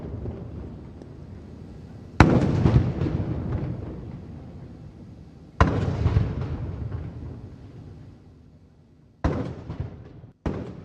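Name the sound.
ceremonial cannon gun salute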